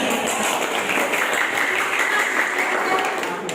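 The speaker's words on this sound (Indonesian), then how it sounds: "Boleh tepuk tangan" Dense, steady clapping from a classroom audience closing a teacher's practice lesson in Indonesia, a continuous even patter holding for several seconds without clear voices on top.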